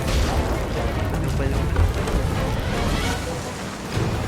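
A loud booming video-game explosion rumbles for several seconds, a dense, roaring blast that stays heavy before tapering slightly.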